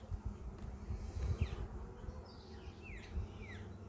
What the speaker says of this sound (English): they're pretty good. They're good bees, these.